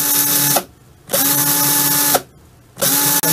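A battery-powered bandsaw motor whirs steadily at its top speed of about 700 RPM with no load, running in two bursts that each stop abruptly and leave brief silent gaps, loud and close with no voices.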